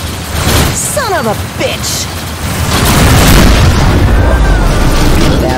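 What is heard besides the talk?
missile launch and explosion in the video game Rebel Galaxy Outlaw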